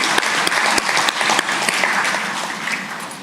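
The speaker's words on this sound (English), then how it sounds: "let's warmly applaud Ambassador Chen" Audience applause at a 2024 college graduation ceremony, honoring an absent ambassador: dense, steady clapping from a large crowd filling the hall, with sharper individual claps standing out, sustained throughout.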